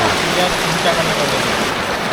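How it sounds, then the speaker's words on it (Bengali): A heavy downpour drums on the surfaces outside a small shop. The roar is dense, steady and continuous, close and loud, with no breaks. "কি জোরে বৃষ্টি পড়ছে"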